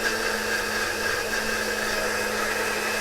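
A continuous electric blender hum grinds shallots with a little water at an even, fairly loud level with a steady drone and no pauses.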